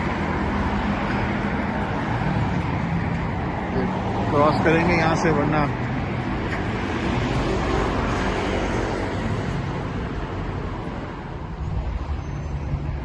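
Steady roar of busy road traffic on a London street, continuous and fairly loud throughout, with a person speaking briefly over the din.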